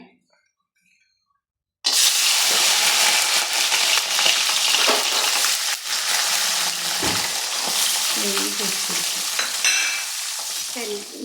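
French fries frying in hot oil for loaded fries: after a short silence, a loud, steady bubbling sizzle begins and keeps crackling close up for the rest of the clip.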